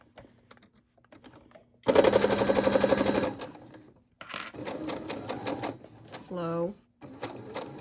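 A Brother SE600 sewing machine stitches fabric in rapid bursts, a close, loud mechanical chatter starting and stopping, with a slower stretch of stitching and a brief spoken word between runs.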